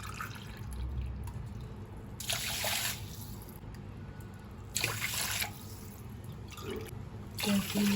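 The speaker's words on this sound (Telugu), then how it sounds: "3 గ్లాసులు వాటర్ వేయాలి" Water poured over washed rice in a pot before boiling for daddojanam, a few gushing splashes and drips coming in bursts over a low steady background.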